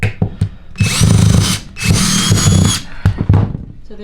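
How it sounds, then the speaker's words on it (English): A power drill drives screws inside a skoolie school bus being converted to a mobile home, in two long close whirring bursts with short taps and brief clatter between them. "Using the drill."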